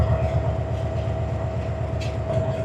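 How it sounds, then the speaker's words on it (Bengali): Jayantika Express pulling into platform 7 at Kamalapur railway station, a steady low rumble and hum of the train with a sustained tonal whine, continuous and fairly near, no talk. "এই যে Jayantika express train Kamalapur railway স্টেশনের 7 নম্বর প্ল্যাটফর্মে প্রবেশ করতেছে আজকে"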